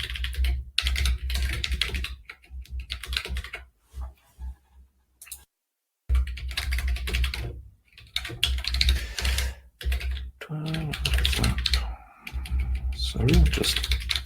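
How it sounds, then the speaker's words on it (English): Rapid keystrokes on a computer keyboard come in close, clattering bursts separated by brief pauses, mixed with someone speaking during an online conference Q&A. "Sorry, I'm just typing the answer right now."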